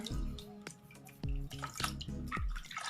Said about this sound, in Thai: แล้วก็ขออนุญาตล้างหน้านะ